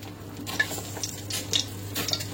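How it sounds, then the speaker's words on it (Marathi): Mustard seeds are tossed into hot oil in a pan as dosa is being made, giving a soft, irregular crackle and spatter along with faint clinks of a utensil over a low steady hum. "तेल तापलेलं आहे आपलं. आता आपण टाकूयात मोहरी"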